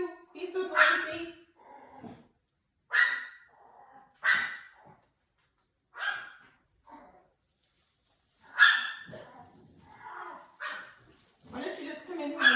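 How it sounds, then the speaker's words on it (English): A dog barks repeatedly in a room while someone makes an Easter garland. There are about eight short, sharp barks at uneven intervals, close and loud, with a few softer whines between them and no talking over them. "Why don't you just come in here and say hi instead of barking?"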